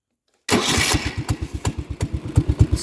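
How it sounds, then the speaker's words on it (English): A Commuter Industries TE 380 three-wheeler's small engine cranks and catches after a brief silence, then settles into a loud, close, steady putter of rapid regular exhaust pulses with no talking. "starts up right away, pretty trusty engine."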